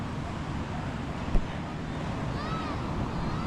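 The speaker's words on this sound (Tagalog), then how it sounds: "Nag-ulan na talaga." Rain falling on the sea, heard from aboard a boat, a steady dense hiss mixed with wind buffeting and water noise, with one brief knock partway through.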